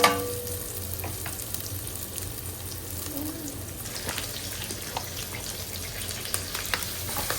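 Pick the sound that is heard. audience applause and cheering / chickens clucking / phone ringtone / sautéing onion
sautéing onion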